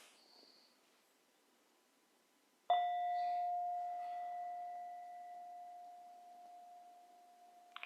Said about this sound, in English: I'm going to offer a bell to start us off.